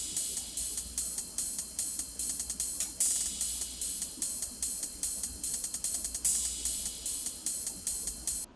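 EDM percussion layers crash, hi-hats and ride into a dense, bright, steady groove of rapid ticks and washy cymbal swells, loud and continuous without speech.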